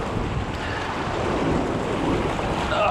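River water rushes strongly around a person wading waist-to-knee deep across a fast current, a continuous loud broadband roar with some wind buffeting the microphone.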